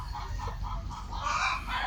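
Farmyard chickens cluck nearby in a quick run of short, repeated calls, fairly close and alone with no speech.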